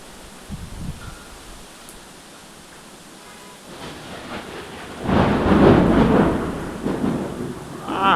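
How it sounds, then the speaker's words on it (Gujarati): Heavy rainstorm on a rooftop terrace, with steady rain hiss building into a loud, broad thunder rumble about midway that swells and rolls on through the rest, close and powerful. "હા વીજળીનો જબરદસ્ત કડાકો જો."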